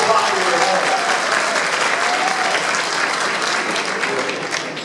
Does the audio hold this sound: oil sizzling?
no